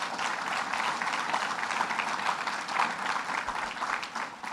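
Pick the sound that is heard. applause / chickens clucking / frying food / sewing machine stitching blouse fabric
applause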